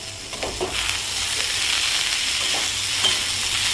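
Cooked valachi bean pods, salted, are stirred into masala frying in a pan, giving a steady close sizzle with soft scraping stirs throughout and no talking.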